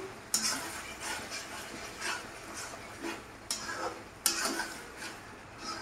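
Kashmiri saffron chicken cooked with yogurt is stirred in a pan, soft scraping strokes with a few sharper utensil clinks against the metal over a faint low simmer.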